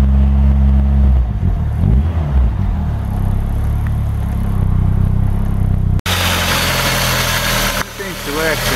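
A flooded VW Golf with wet ignition leads runs close by with a loud, rough, uneven engine note that surges with the throttle, then cuts abruptly to a different, harsher engine roar.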